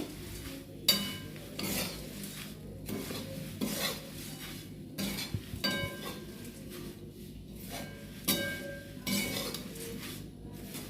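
Flattened rice (chira) being dry-fried and stirred in a pan, the spoon scraping and rasping against the metal in irregular close strokes, with faint crackle and brief clinks between them.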